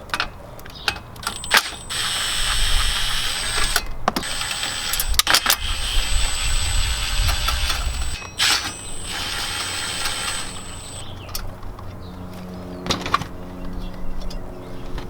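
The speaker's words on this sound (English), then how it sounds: "Now we're gonna go ahead and take out the stock head unit, and there looks to be around 4, looks like 8mm bolts on each side, so we're gonna go ahead and unscrew that." 8mm bolts holding the stock head unit in a Lexus GX470 are unscrewed with a ratchet, producing quick clicking bursts, rattles and small metallic clatters close by, with nobody talking.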